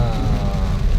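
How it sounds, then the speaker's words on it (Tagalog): Steady typhoon rain in Montalban patters and hisses across a surface, a dense, continuous wash of drops with a low rumble underneath. "Ulan na"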